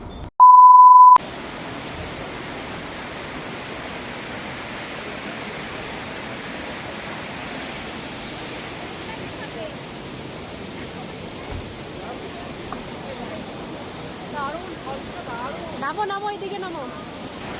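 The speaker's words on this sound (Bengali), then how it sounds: "ঝর্ণার জলটা হাওয়ার সাথে বাড়ি খেয়ে যখন চোখে মুখে ছিটে এসে পড়ছে" Kanchenjunga Falls in West Sikkim, a constant broad roar of falling water with wind-blown spray, heard close and loud after a brief beep, with faint voices near the end.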